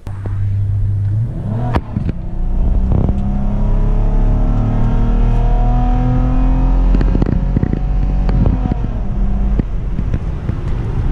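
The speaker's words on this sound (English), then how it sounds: "when I initially stepped on the gas, you saw how it kind of slipped and then caught, and then when it went to shift, it took a little while" Chevrolet Impala SS accelerating with a slow, slipping shift: engine drone rises steadily in pitch, dips as a gear change comes late, then climbs again, close and loud with some wind rumble.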